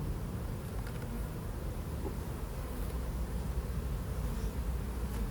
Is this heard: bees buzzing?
yes